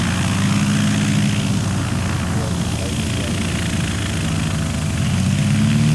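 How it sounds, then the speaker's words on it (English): A lightweight Stinson airplane landing at the Great Lakes STOL competition, its engine a loud, steady droning hum that holds level throughout with only slight swells as power is added. "with his very lightweight Stinson coming across the fence. He holds it up, adds power, holds it off"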